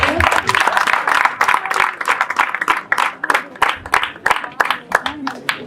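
An audience claps at a youth talent show put on by a youth charity, with dense, rapid applause that thins into scattered claps while someone speaks over it.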